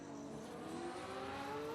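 Racing car engine in the sim racing game Le Mans Ultimate, a steady high-pitched whine with rising harmonic tones held for under two seconds, fairly faint and without talk.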